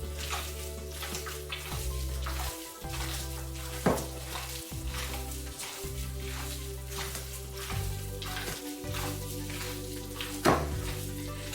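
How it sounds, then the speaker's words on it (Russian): Minced meat mixed with half a glass of dry red wine is stirred by hand for cutlet mince, a steady close wet squelching and slapping with a low background hum and occasional sharper smacks. "В хорошо вымешанный фарш добавляю полстакана сухого красного вина. И еще раз хорошенько перемешиваю."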